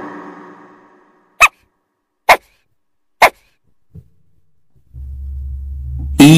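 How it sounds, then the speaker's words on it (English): A dog barks three times in quick, evenly spaced sharp bursts, loud and close, set between a low hum at the start and a steady low drone near the end, with no talking. "D for dog."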